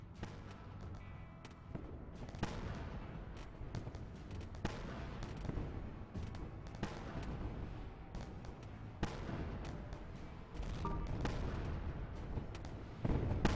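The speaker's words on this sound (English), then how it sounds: "You can see he's actually shooting our missiles out of the sky" Space combat in Wayward Terran Frontier: Zero Falls, with faint, repeated muffled blasts and pops as missiles are shot down, spaced a second or two apart at low volume.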